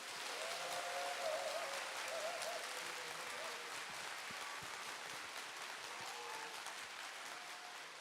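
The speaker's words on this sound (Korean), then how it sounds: "모두 본당의 날 축하의 의미로 뜨거운 박수 부탁드립니다." An audience at a Catholic parish festival opening, marking the parish's 22nd anniversary before a choir program, gives warm, continuous applause at moderate volume, with a few faint voices and brief tonal sounds mixed in.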